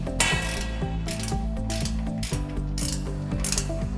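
A hand ratchet tightens carriage bolts on a combination brush/drum sander stand, giving rapid close clicking in steady back-and-forth bursts with no talk.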